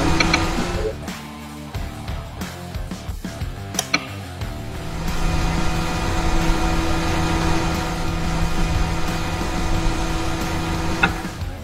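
An electric motor switched by a contactor: a few clicks and uneven noise give way partway through to a steady, loud electrical hum with sustained tones that runs to the end, with no talking.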